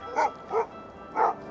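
Sled dogs bark in three short, sharp yaps close by, spaced unevenly over a faint background hum.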